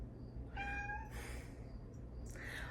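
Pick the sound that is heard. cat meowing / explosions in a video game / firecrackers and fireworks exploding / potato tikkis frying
cat meowing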